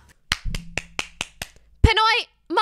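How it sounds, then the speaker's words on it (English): Hand clapping indoors, about seven sharp, evenly spaced claps close to the microphone, followed by a person speaking. "That's me clapping for that edit."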